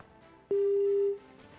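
A faint telephone line tone from a guest's call on a live Hindi news broadcast, a single steady beep lasting under a second against quiet background hiss.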